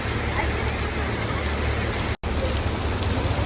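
Rain falls steadily on an outdoor street in Russia, a dense even hiss with faint traffic rumble beneath and one very brief dropout partway through.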